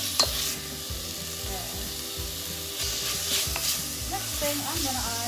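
Chicken and vegetables fry lightly in a pan for a low-salt chicken vegetable soup, giving a steady sizzle with repeated scraping stirs and rhythmic utensil clicks close by.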